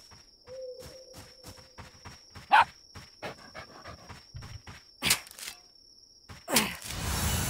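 A dog in the video game Dysmantle pants in quick, regular breaths over a steady electronic tone, with occasional louder game sound effects cutting in.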